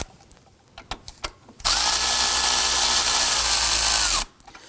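A power tool whirs steadily for about two and a half seconds, tightening the serpentine belt on a 2005-2009 Subaru Legacy 2.5L H4, with a few faint clicks just before it starts.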